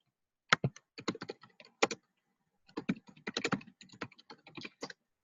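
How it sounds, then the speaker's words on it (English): Rapid keystrokes on a computer keyboard come in two close, crisp bursts separated by a short pause, with no voice over them. "I typed in glitter with a clear background"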